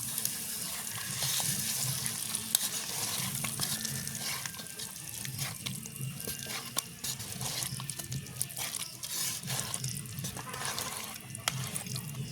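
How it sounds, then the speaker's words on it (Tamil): Tempered rice is stirred in a pot over a village cooking fire, with soft scraping and a steady sizzle running for several seconds under faint outdoor background noise. "நாங்கள் நல்லபடியாக துளாவி விடுவோம்"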